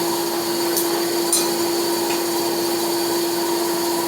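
A small electric air blower on a blacksmith's forge runs continuously with a steady whirring hum and a constant pitched whine, while a couple of faint metallic taps sound in the background.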